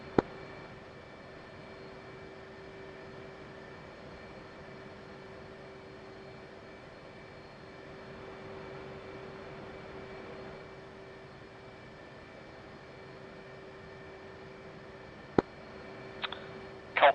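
Training aircraft taxiing on a squadron airfield, a steady faint engine drone with a constant propeller hum holding throughout, distant and unchanging, with a few sharp clicks near the end.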